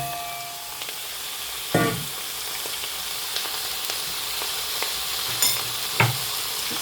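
Mutton pieces sizzle in hot oil with sautéed onions in a pan, a continuous bright frying hiss broken by a few soft scrapes and knocks as a spoon stirs the meat; no speech.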